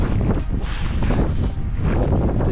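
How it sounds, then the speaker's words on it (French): Strong wind on a cold trek in New Zealand, a loud continuous low roar of gusts battering the microphone without pause. "Et il y a du vent, hein."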